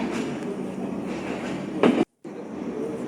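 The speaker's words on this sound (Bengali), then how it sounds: "একটু পরেই আমাদের ট্রেন থেমে যাবে আমরা নামবো স্টেশন" A passenger train is pulling into Khulna railway station with a steady, heavy rumble of wheels on rails and a brief louder clatter, heard from inside the carriage.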